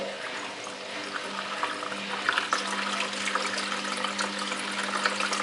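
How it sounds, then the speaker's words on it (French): Water poured from a container into a small plastic sachet, about a litre, a steady close trickle and splash with a low hum underneath, continuous throughout with no talking. "je vais remettre de l'eau, donc encore plus ou moins 1 litre"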